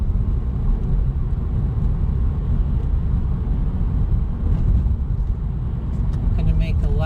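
A manual-transmission car held in third gear, its engine and road rumble droning steadily and loudly from inside the cabin, with someone talking over the noise throughout.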